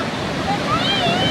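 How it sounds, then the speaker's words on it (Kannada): Rough, strong sea waves break at Mahabalipuram beach in the evening, giving a continuous loud wash of surf with faint voices in the background. "ತುಂಬ ಜೋರಿದೆ ಅಲೆ ಇಲ್ಲಿ"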